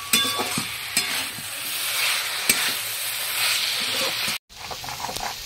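Mashed beans with coriander leaves being stirred in a pan at close range, with a soft continuous scraping and light sizzle, a few sharper clinks and a short break near the end.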